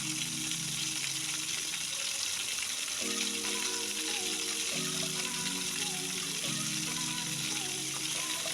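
Chicken pieces deep-frying in oil, with a steady, dense sizzle and crackle throughout while they are lifted out of the pan, accompanied by faint sustained tones in the background.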